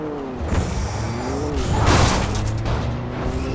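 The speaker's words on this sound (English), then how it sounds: "This car sounds more like a freaking tiny, a little sports car than anything else" A car engine in the video game Alan Wake revs and hums steadily under game noise, swelling into a louder whooshing surge midway before settling back to a steady drone.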